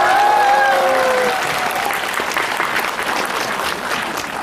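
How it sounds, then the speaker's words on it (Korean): Audience applause for a director and an actor at a tenth-anniversary fan event for The King and the Clown in Taiwan, a loud, dense, sustained clapping that fills the whole stretch, with a few faint voices and whistle-like cheers early on. "다시 한번 감독님, 배우님께 큰 박수 부탁드리겠습니다"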